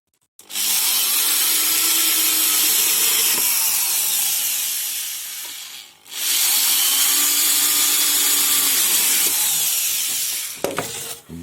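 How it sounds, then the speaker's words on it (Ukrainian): A cordless screwdriver drives self-tapping screws into the wooden body of an 8×145 beehive box, two long steady whirring runs close up, each lasting several seconds, separated by a brief pause and ending with a few clicks. "Ми ось так на площині вирівнюємо і закручуємо саморізи."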